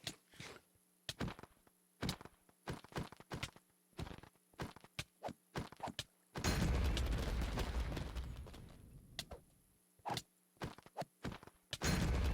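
Gunfire in a dungeon video game as spiders attack: a string of sharp, separate shots, then a long, loud burst of dense blasting, then more scattered close shots.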